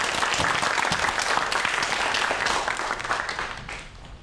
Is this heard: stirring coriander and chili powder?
no